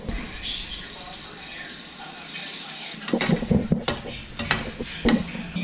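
Moths and a cockroach fry in a pan, a low sizzle under clattering stirring and scraping that grows busier partway through.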